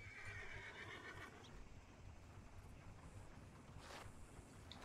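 A horse in Red Dead Redemption 2 whinnies loudly at the start, a high wavering neigh, followed by low rumbling background and a faint second whinny near the end.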